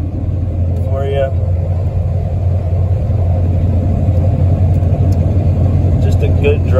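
A 1997 Ford F-250 regular cab 4x4 pickup cruises at about 70 mph, its engine and road noise a constant low rumble from inside the cab while someone talks over it.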